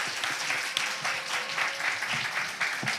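A church congregation breaks into sustained applause to welcome a returning missionary, a dense, steady clatter of many hands filling the hall for the whole stretch.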